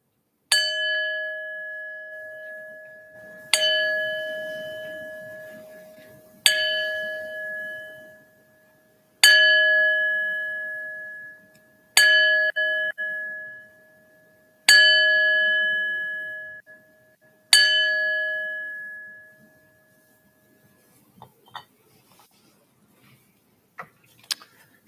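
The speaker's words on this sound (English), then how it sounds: "I ring the bell 7 times in honor of our 7 Unitarian Universalist principles." A bell is struck seven times at a Unitarian Universalist church service, each clear metallic ring evenly spaced and left to decay before the next, followed by a few faint knocks.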